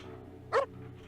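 A single dog bark in the Parasite Eve II video game rings out once, short and fairly loud, over a steady low game ambience.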